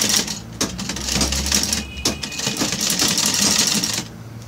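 A sewing machine stitches knit fabric in steady mechanical bursts, a continuous clattering run with brief pauses and restarts, close and fairly loud with no talking.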